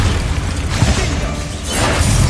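Explosive spell blasts in Hogwarts Legacy, Confringo and Bombarda style, rumbling and crackling in quick succession with low booms and bursts throughout the short stretch, no talk over them.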